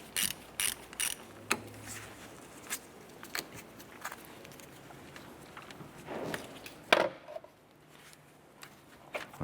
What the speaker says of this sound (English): Let's go ahead and loosen our positive terminal here.